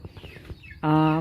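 A domestic chicken in a home coop lets out a short, clear, tonal call near the end, following soft clucks and rustling in the background.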